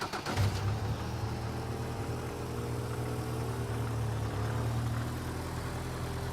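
A BAC Mono sports car's four-cylinder engine runs at a low, steady drone, fairly quiet and even, with a slight swell partway through and no voices over it.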